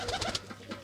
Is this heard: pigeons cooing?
yes